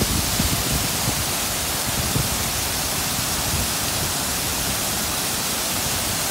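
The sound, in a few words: waterfall at Hug Point, Oregon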